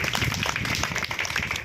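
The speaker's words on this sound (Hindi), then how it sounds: "और बाकी लोग जोरदार तालियां इनके लिए बजाएंगे।" Children at a village gathering clap together in a dense, steady burst of applause at close range, with no break for its short length.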